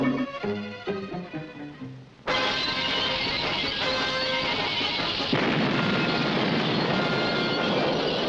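A cartoon tank gun fires: a booming blast erupts after a brief musical lead-in and rolls on as a loud sustained rumble for several seconds.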